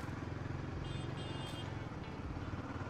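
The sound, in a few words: Royal Enfield Guerrilla 450 motorcycle accelerating in second gear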